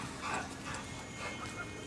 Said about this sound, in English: Happy dog.